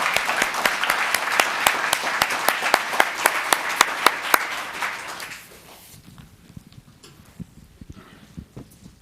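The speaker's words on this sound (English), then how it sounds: "Please join me in another round of applause for Natalia." A town council meeting audience claps for an honoree with distinct, sharp individual claps over a steady patter, then the applause stops abruptly and a few scattered claps and faint room noise remain.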